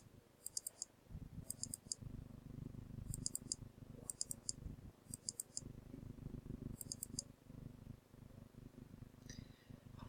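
A computer mouse is clicked during a software lesson: about six quick pairs of sharp, quiet double clicks, spaced a second or so apart, over a low, continuous purring rumble.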